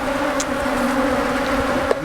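Honey bees droning steadily close by during a hive inspection, a dense continuous buzz with a few individual bees zipping past, no voices.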